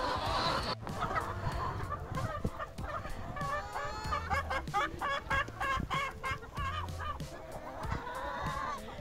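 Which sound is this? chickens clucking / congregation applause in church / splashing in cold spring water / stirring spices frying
chickens clucking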